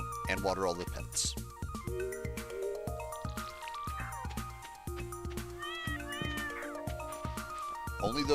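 A pet cat in Stardew Valley meows repeatedly, short bright mews over background game music and a voice talking in the same moment.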